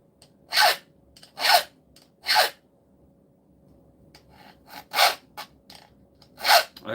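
A double cut file scrapes metal in slow, regular strokes, a rasping burst roughly every second or so with brief quieter pauses, close and fairly loud with no talk.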